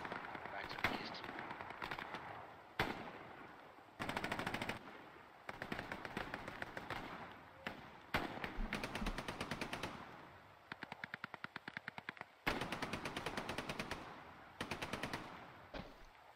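Machine gun fire in the World War II game Hell Let Loose: long rapid bursts and clipped volleys crackle nonstop, some close and loud and others more distant, with brief pauses, and players talk faintly underneath.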